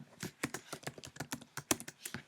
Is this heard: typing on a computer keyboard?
yes